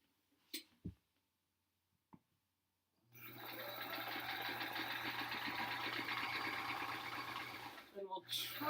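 A sewing machine stitches a quilt block, starting after a few quiet clicks and then running in one continuous buzzing burst for about five seconds before stopping with a couple of brief taps.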